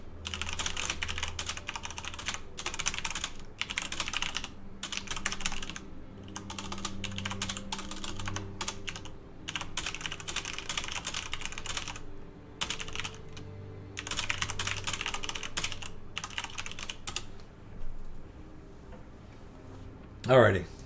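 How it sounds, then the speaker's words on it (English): Computer keyboard typing in bursts of rapid clicks separated by short pauses, close and moderately loud, recorded during an Idle Champions episode; a brief vocal sound comes at the very end. "You guys can listen to me typing to him."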